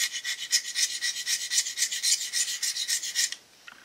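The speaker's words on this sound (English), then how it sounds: "then I'll follow that up with a honing stone to make sure I don't have any nicks in it" Honing stone rubbed back and forth over an automotive flex plate for a Studebaker V8, a close, steady dry rasping in quick repeated strokes for about three seconds, then stopping, with no talking.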